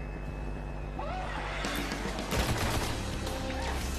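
Rifle gunfire in the Destiny game, a burst of sharp, loud shots and crashes that breaks out midway over steady background game music.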